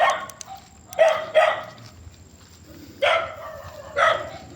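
Dogs bark near a cemetery in Cavite, with a few separate bursts of barking spread across the clip, fairly close and loud against an otherwise quiet outdoor background.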